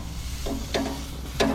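Moose sausages, Georgia peach and mango tango breakfast links, sizzle in a pan with a steady close frying hiss and a few brief crackles, no voices.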